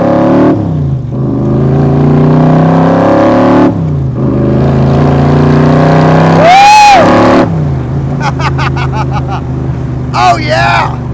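A Backdraft Racing Roadster with classic Acapulco blue paint rumbles loudly close by, its engine revving in long rising and falling pulls, while a person speaks and whoops excitedly over it.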